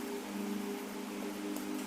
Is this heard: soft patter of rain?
yes